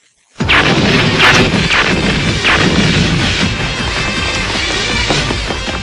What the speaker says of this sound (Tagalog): Hindi umuubra ang mga paputok ko.